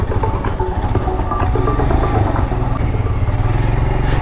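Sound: Royal Enfield motorcycle riding on a dirt jump track

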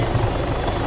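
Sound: helicopter flying in video game Altis Life (Arma)

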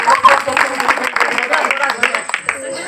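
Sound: audience clapping at village prize ceremony

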